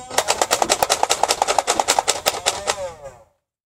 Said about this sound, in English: this is just gonna be like a 1 minute video of me firing down the stump and going collecting the darts